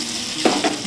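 Garlic and bay leaves frying in hot oil with fried potatoes in the pan, a steady close sizzle with a brief stirring scrape in the middle, no talking.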